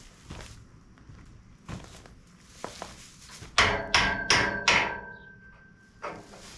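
Hammer blows during farm upkeep repair work: a few scattered taps, then four loud, sharp ringing strikes in quick succession with a lingering metallic ring, followed by one softer knock, close by with no talking.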